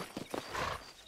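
Horses in the Red Dead video game clop their hooves a few times, close and moderately loud, with a faint neigh in a short burst.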